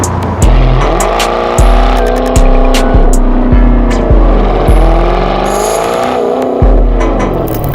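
A widebody police Dodge Charger accelerates hard through a series of gear changes, its engine climbing and dropping in steady steps, loud and close from inside the car.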